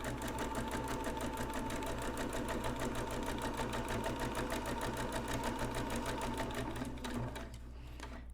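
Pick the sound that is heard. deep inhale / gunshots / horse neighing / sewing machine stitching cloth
sewing machine stitching cloth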